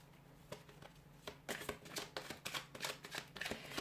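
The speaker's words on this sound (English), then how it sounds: "I'll give the cards a shuffle" A deck of tarot oracle cards is shuffled close up, with quiet, papery flicks that grow into a run of brisk, rhythmic rustling bursts.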